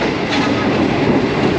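Shalimar Express passenger train running on rails into Hyderabad on its Karachi to Lahore route: a loud, steady rumble of wheels and carriage noise heard from on board, with no break.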